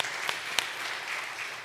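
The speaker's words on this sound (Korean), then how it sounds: "하나님 영광에 박수드리겠습니다." A Methodist church congregation at a Sunday service gives steady, moderate applause throughout, with a couple of sharper individual claps standing out.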